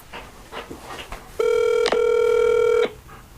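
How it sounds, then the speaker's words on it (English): A phone call is placed: a few soft button presses, then a single loud steady ringback tone lasting over a second, briefly interrupted midway, heard close on the line. "let's give Teresa a call"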